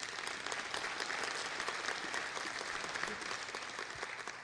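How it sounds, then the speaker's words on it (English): An audience at a Toledo Rockets football signing day event gives a sustained round of applause, dense and even, somewhat distant and fairly quiet. "Please give them a round of applause."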